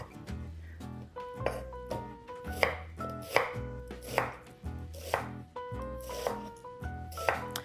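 Onions being sliced with a knife on a cutting board, a steady series of crisp, close chops with firm knocks on the board, repeating at a regular rhythm with no talk.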